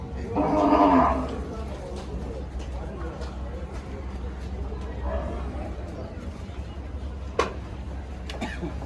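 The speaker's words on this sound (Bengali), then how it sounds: "এই সকল গরুগুলো" Near the start a single cow moos at a crowded livestock market, then fades into low crowd murmur and distant chatter, with a sharp knock later on.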